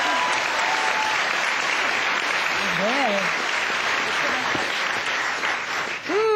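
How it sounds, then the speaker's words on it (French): A French television studio audience applauds with loud, dense, sustained clapping close by, while voices briefly call out over it near the end. "Carolina, qu'on applaudit, c'est notre chérie."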